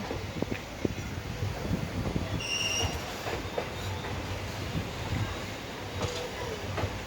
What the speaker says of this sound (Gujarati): પેસેન્જર ટ્રેન છે પણ ફાસ્ટ ટ્રેન છે